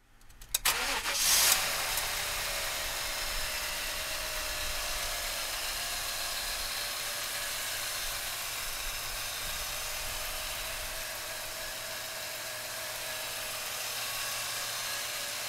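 A 1995 Chevrolet Impala SS engine cranks briefly, fires and settles into a steady, even idle that runs on loud and close, with no voices.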